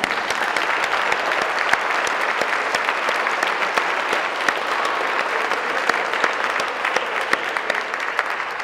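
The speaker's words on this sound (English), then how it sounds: "Let's give them another round of applause." Sustained, even applause from an audience at a school pinning ceremony, many hands clapping steadily throughout at a fairly loud level.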